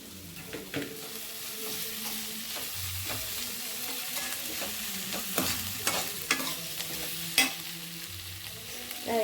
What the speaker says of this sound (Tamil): இது காய்க்கு உப்பு ரவைக்கு எல்லாத்துக்கும் சேர்ந்து நம்ம இதுலேயும் கொத்தமல்லி தலையும் போட்டு வதக்கிக்கலாங்க